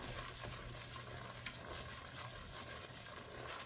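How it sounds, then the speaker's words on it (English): A spoon stirs gravy in a pot while cooking potato soup with chicken broth, a soft steady scraping swirl over a faint low sizzle, quiet and close, with one small clink partway through. "you really want to stir good because this is what makes lumps in gravy"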